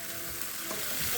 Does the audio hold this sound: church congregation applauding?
no